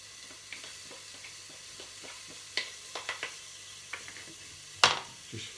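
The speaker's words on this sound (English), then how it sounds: "Just fry that off, and again for another 5 minutes just let that fry off." Onions, chopped green chillies and garlic fry gently in a pan for vegetarian chilli tacos, with a quiet sizzle under scattered stirring clicks and scrapes, one sharper clatter near the end.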